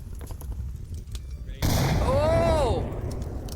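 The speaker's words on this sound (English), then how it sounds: "Nades coming in." Grenade blasts and gunfire burst out in the VR shooter Onward during a competitive match, a sudden loud eruption after a quieter stretch with rumbling tails.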